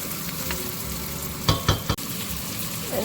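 Chicken and biryani spices frying in a pan, a steady close sizzle throughout with a few sharp stirring scrapes and clanks midway.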